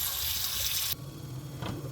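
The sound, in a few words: washing leaves in water with salt in sink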